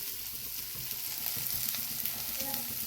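Food frying in a pan during home cooking of an Assamese sour dish, giving a steady, close crackling sizzle with soft bubbling and occasional stirring scrapes throughout.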